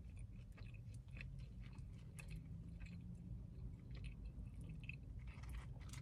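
Someone chews Wendy's queso fries close to the mic, with soft, wet, repeated bites and squishy mastication at a steady pace, quiet and with no talking.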